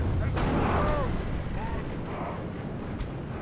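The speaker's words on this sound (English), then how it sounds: "And we got grape shot going in." Grapeshot cannon volleys in a Third Age Total War battle at Erebor, heavy booming blasts rolling through a constant roar of battle noise, with sharper cracks near the start and end.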